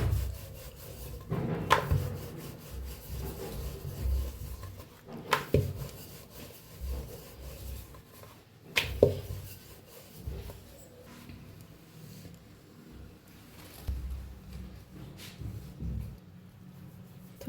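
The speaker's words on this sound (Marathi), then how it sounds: "लाटून घेऊया पीठ लावून." A rolling pin presses egg flatbread dough dusted with dry flour, making soft, quiet rubbing and rolling strokes in a steady rhythm with occasional light knocks.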